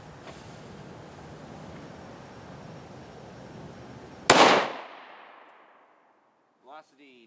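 A single sharp gunshot from a 5.7x28mm firing a 40-grain Barnes VLC round into a test block cracks loudly after a low background hum, then rings out and decays, followed by a brief voice.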